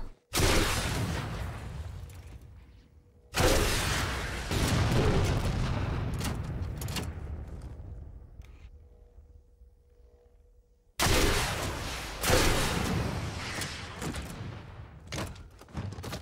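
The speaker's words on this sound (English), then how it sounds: "Rocket launcher." Rocket launcher in Halo 4 fired in three heavy blasts, each a loud booming burst that rolls off over several seconds, the last two close together near the end.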